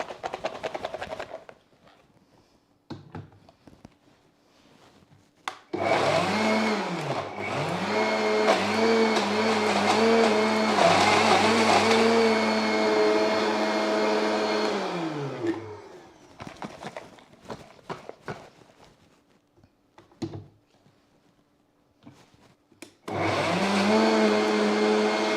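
A kitchen blender whirs loudly through a sugar-free, protein-packed truffle mixture in two long runs, with motor pitch rising as it spins up and dropping as it winds down, separated by quieter stretches of scraping and knocking.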